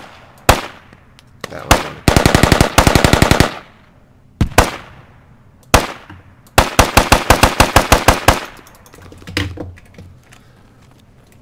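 Rifle fire in the tactical shooter Squad, in loud bursts of rapid automatic shots and single cracks, separated by pauses, with a brief voice at the end.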